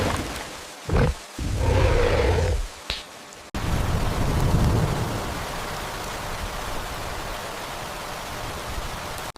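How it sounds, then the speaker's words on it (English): Steady rain pours down at an outdoor dinosaur zoo with a river-style nursery enclosure, a dense even hiss broken by a few brief louder knocks and dropouts early on, then continuous wash. "Hope you don't mind the rain."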